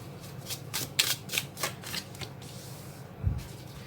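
Tarot cards are shuffled in a quick, rhythmic series of crisp riffling slaps, close and clear, ending with a soft thump as the deck is set down.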